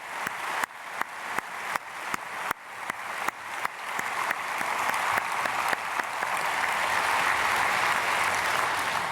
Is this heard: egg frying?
no